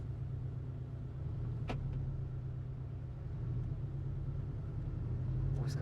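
Porsche Cayman 718 mid-engined sports car in automatic mode, heard from inside as a steady low engine rumble and road drone, fairly quiet with a faint click partway through.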